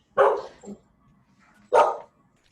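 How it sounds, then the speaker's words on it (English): Dogs bark twice indoors during a morning service, two sharp, loud barks about a second and a half apart with near silence between them. "That's my dogs."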